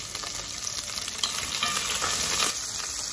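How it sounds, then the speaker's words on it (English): Onion frying in a pan as cooking begins, giving a steady, close, crackling sizzle that runs throughout with no talking. "Let's begin cooking. Okay, put in the onion."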